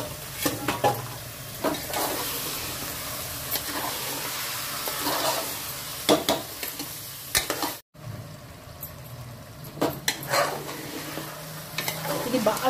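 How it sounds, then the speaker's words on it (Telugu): Mutton head pieces fry in oil in a pot for a home-style Sunday curry, a continuous loud sizzle broken by repeated scraping stirs of a spoon against the metal, with a momentary gap midway. "నూనెల్ని మంచి గోలాలి. పచ్చి వాసన పోయేంత వరకు గోలాలి."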